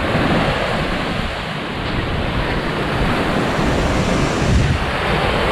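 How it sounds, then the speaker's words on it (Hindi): Sea waves wash onto the shore near Muscat, Oman, a continuous loud rush of surf mixed with heavy wind buffeting the microphone, with no voices. "ये है जी समंदर।"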